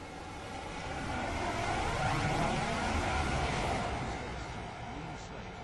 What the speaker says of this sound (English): The train now approaching.